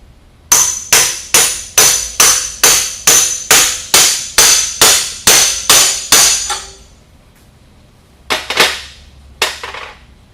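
An outer metal seal is driven in with a hammer against an old bushing, a fast run of about fourteen sharp ringing metallic strikes, a pause, then two more close hits.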